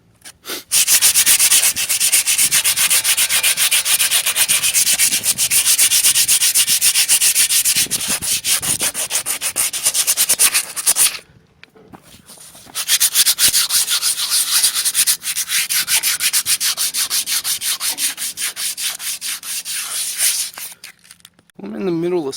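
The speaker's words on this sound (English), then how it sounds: "I'm just going to sand it some and then shoot it" Harsh, continuous abrasive sanding scrapes against a metal bumper in long strokes, loud and close, with a brief pause midway before resuming.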